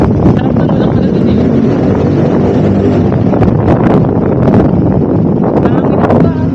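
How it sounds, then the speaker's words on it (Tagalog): Strong seaside wind roars and buffets the microphone continuously, loud and close, during a ride by the bay at SM Mall of Asia, Manila. Voices and a motor-like drone are partly audible underneath. "Lakas ng hangin."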